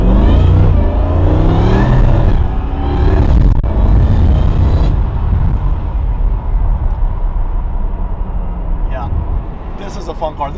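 A Mercedes McLaren SLR accelerates hard with a loud, deep engine roar that climbs through the revs. It then fades into a lower rush as the car pulls away, and talk is faintly audible alongside.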